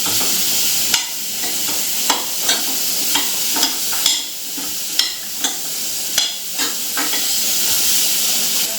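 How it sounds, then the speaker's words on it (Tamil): Vegetables sautéed in a hot pan, with a steady frying sizzle and repeated sharp scrapes and clinks as they are stirred and turned at a roughly even rhythm, close and fairly loud, with no talk. "இது கொஞ்ச நேரம் சூ நல்லா சூடு ஏற வரையும் வதக்கிட்டு நெரிச்சிடுவேன்"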